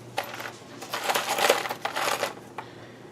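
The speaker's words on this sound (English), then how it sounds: "And then we're going to add a little bit of ice." Ice being dropped onto tie-dye fabric for ice dyeing gives a series of close crunchy, rattling bursts as cubes land and settle, several clusters over a few seconds.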